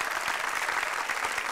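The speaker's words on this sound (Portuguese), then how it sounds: "Uma salva de palmas." Audience applause at a stand-up comedy show, a steady dense wash of many hands clapping at close range with no talk over it, sustained through the short moment.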